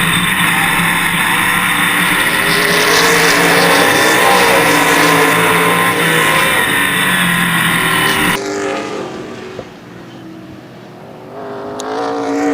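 Stock race cars roar loudly and continuously around Baer Field Speedway during a 2015 ARCA/CRA Super Series race, with a Chevrolet in the field. The dense engine howl holds for about eight seconds, then cuts to a fainter, distant drone.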